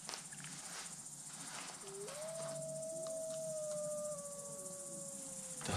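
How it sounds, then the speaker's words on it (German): A wolf howls at night in the Bavarian Forest, one long, faint, sustained howl that rises and then holds a drawn-out tone, heard from a distance over quiet night ambience. "Ey, das ist ein Wolf."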